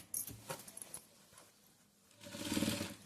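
A sewing machine stitching a frill-style long frock whirs in a soft burst near the end, after faint handling clicks and rustles at the start.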